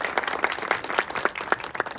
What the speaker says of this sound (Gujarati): આપણા બધા માટે આપણે તાળીઓ પાડી લઈએ